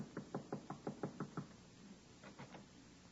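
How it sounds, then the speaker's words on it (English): Nervous knocking on an apartment door, a radio drama sound effect from 1944: a quick run of about eight close, even raps, a short pause, then three softer taps. "he is tapping a bit nervously at the door of Miss Jessup's apartment"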